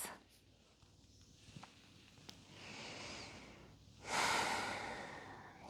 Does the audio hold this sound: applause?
no